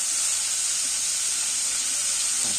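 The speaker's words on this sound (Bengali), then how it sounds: "এইবার আমি ভেজে নেবো কপিগুলোকে" Cauliflower pieces coated in salt and turmeric fry in hot oil, giving a steady, loud, continuous sizzle and hiss with no talking.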